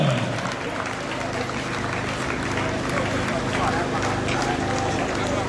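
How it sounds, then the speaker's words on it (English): Sustained audience applause and crowd noise fill a swearing-in ceremony for Edo State's governor and deputy governor starting a second term, a steady, dense wash of clapping that holds at an even level throughout. "A round of applause, ladies and gentlemen."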